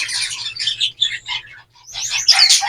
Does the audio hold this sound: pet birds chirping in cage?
yes